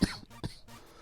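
Someone with a cold coughs twice close up, two sharp harsh bursts with a brief gap between them.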